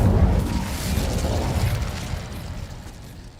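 An Incendio fire spell bursts in Hogwarts Legacy, a loud, rumbling whoosh of flame that starts strong and slowly fades over a few seconds.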